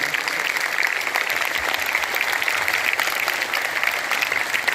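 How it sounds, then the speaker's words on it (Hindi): Audience at a motivational education seminar in Taranagar applauds steadily, a dense, even wash of many hands clapping close by, filling the whole stretch without talk. "सलीम जी सर के लिए जोरदार ताली एक बार फिर बजाएं आप सब लोग"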